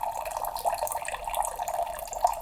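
Steady stream of water pouring from a filter water dispenser into a container, a smooth continuous rush with faint bubbling, close and alone.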